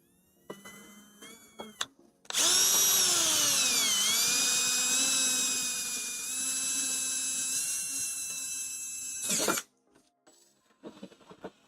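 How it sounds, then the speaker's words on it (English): A small hole saw on a rotary tool drills a hole during Skywalker V1 cooling modifications, a loud, high-pitched whine lasting about seven seconds with a dip in pitch as it bites, framed by quiet clicks and handling. "And this will be my little hole saw."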